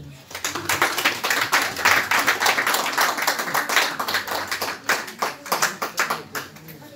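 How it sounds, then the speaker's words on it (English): Audience at a Raja Yoga workshop and seminar clapping together, a dense burst of hand claps that swells, holds and then thins into scattered individual claps toward the end, close by. "We should have a big clap for them all."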